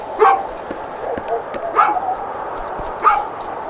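A dog in A Juggler's Tale gives three sharp barks with whimpering yips between them, close and evenly spaced, alone without speech.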